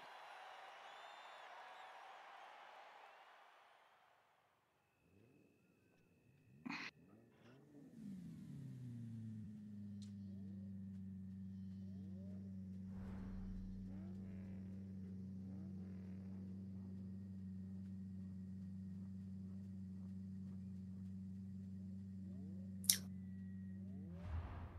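Pagani car engine in a racing video game, starting after a brief burst of noise, then revving up and holding a steady mid-pitched drone for about fifteen seconds, with a few sharp clicks.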